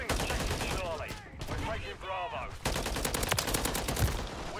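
Holger-556 rifle gunfire in a Modern Warfare 3 multiplayer objective match, loud rapid bursts of automatic shots repeating close up, with game noise and voice chat underneath.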